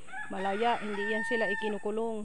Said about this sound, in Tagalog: Pasensya na kayo sa ingay ng manok